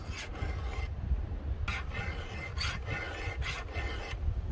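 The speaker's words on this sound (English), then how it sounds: "this chain fits this file perfectly, and it files easy" A file rasps against a chainsaw chain on a Jonsered 2095 saw in several rhythmic strokes, each a short scraping burst with brief pauses between, close and clear over a low background hum.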